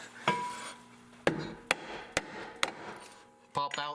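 Sharp metallic hammer blows strike car axle parts during a Ford 8.8 axle swap, about six separate close impacts spaced unevenly, followed by a brief clatter.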